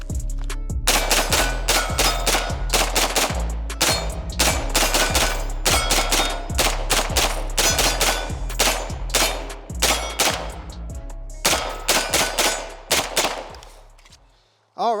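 An AR-9 9mm pistol-caliber carbine firing at a distance target, with many sharp shots in quick rapid strings and short pauses, some ringing metallic hits, loud and near, no talk.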